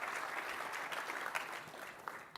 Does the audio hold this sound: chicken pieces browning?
no